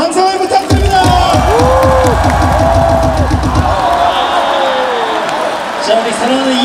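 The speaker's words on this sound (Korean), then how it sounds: "박수 항상 부탁드립니다." Crowd at a Korean baseball stadium during a Hanwha Eagles vs Doosan game, cheering and clapping in rhythmic chant patterns with drums and amplified cheerleader voices, loud and continuous throughout.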